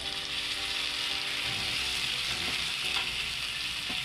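Onion sautéing in oil in a pan for shevaya upma, a steady close hiss of frying with a few faint scrapes of stirring and no talking.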